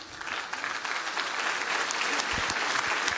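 Brief warm applause from an audience at a solidarity choir concert in Tonara, Sardinia, honoring the choir's director, with dense steady clapping at moderate volume.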